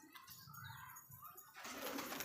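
Pigeons flap their wings in a brief flurry, with soft cooing and rustling close by, building to a louder burst of flapping at the end.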